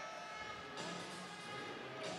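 A referee's whistle shrills at a para ice hockey game between Norway and Canada at the World Championships, rising over steady arena crowd noise.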